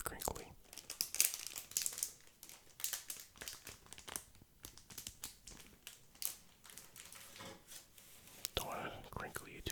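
Crisp crinkling of comic book pages, a Web of Spider-Man issue, handled closely in a series of dense rustles and soft crackles, with faint whispering woven through.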